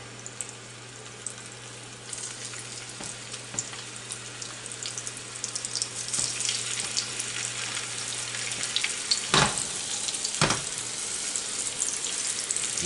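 Salmon fillet laid skin side up in a hot pan for a balsamic glaze, giving a steady wet sizzle and crackle throughout, with a couple of louder bursts near the end and no talking.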